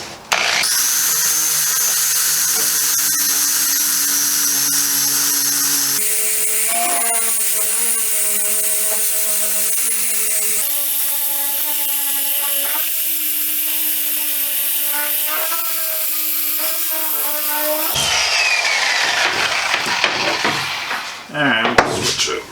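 Metal being sanded with a coarse 60 grit disc on a power tool, a steady loud grinding whine that shifts pitch in several sections, ending with rougher scraping bursts.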